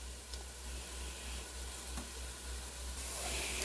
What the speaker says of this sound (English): let this go and sizzle till the onions get a little translucent